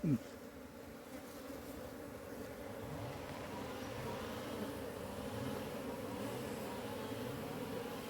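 A honeybee swarm hums continuously, close and steady, as a wild hive is gathered by hand in the forest, the dense drone holding alone throughout.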